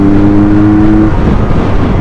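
A 2023 QJ Motor SRK 400 two-cylinder naked motorcycle revs hard after a downshift, a loud, continuous engine roar close to the microphone that stays strong throughout.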